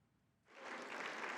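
Democratic Party lawmakers lined up in the National Assembly plenary hall clap as the president passes. The applause swells in after a quiet start and holds as a dense, steady wash of many hands.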